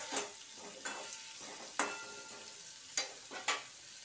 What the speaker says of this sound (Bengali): এরপরেতে ওটাকে সুন্দর করে নেড়ে চেড়ে তরকারিটা আমি রান্না করে নেব